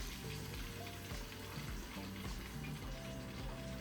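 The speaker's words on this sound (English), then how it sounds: "I'm frying some more of the meatball while we're waiting on the sauce." Meatballs sizzle in a pan, a dense, even crackling hiss that stays constant throughout at moderate volume.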